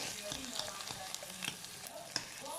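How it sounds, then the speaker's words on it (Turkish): Onions and pepper paste fry in a pan with a soft, faint sizzle, while a spoon scrapes and stirs them in irregular clicks and taps. "Şimdi salçamızı da biraz soğanlarımızla birleştirip"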